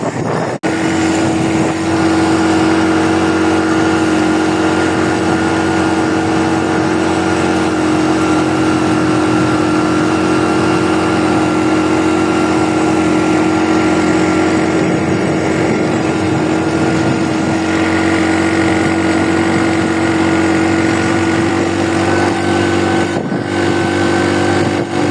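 A motorbike engine hums steadily for the whole ride, a loud continuous drone with wind noise and slight shifts in pitch as the bike moves along.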